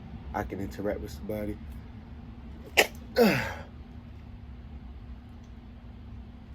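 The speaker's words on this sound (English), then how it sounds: "I'm about to sneeze" A person sneezes once, sharply and close, partway through their own talking, with a faint steady hum in the room behind.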